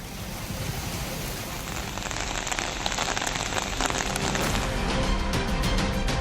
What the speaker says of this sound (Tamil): சுற்றுவட்டார பகுதிகளில் பரவலாக மழை பெய்தது